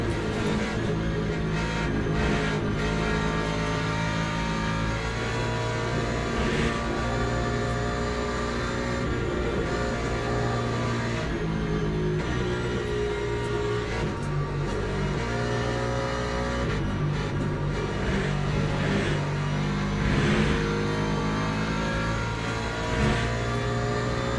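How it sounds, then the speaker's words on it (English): LMP3 prototype race car in the Le Mans Ultimate racing game, a continuous loud engine drone with shifting revs and passing car noise throughout, no talking. "We've got the LMP3 coming back through here now."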